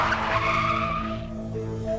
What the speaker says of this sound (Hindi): रेड क्रिमिनल अपनी बाइक बुली बुली के पास आके रोक देता है।